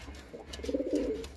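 A Teddy breed pigeon gives a single soft, low coo, faint and close, over quiet background hiss.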